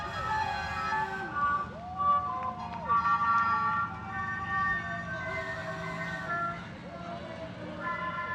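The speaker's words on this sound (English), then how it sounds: "they've got a fire engine coming down the parade route as well" A vintage Shriners fire truck rolls along a parade route at a festival parade, its siren wailing in rising and falling sweeps over steady crowd and street noise, with a voice talking faintly in the mix.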